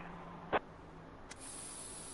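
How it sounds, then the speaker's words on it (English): A brief burst of pepper spray from police equipment in the game This Is The Police II, one short loud hiss standing alone, followed by a faint click and a steady high whine. "Another way to take down a criminal is to use pepper spray."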